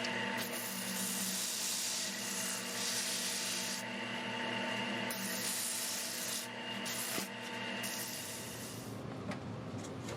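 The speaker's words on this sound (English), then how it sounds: "a little more sanding on the tips of these to bring them more to a point." Steady rasping strokes of sandpaper rubbing on the tips of a scrap-wood holiday ornament, close and continuous, with brief pauses and changes in pressure throughout.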